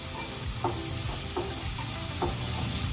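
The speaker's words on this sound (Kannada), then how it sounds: "ಸ್ವಲ್ಪ ಹೈ ಫ್ಲೇಮ್ ಇಟ್ಕೊಂಡು ಸಾಫ್ಟ್ ಆಗೋ ತನಕ ಹುರಿಬೇಕು." Vegetables frying in a pan on high flame for a mixed vegetable kurma: a steady close sizzle with a few soft stirring scrapes, no voices.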